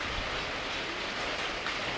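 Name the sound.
rain falling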